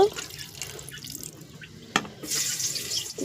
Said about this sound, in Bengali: এবার সামান্য আমি জল দিয়ে দেব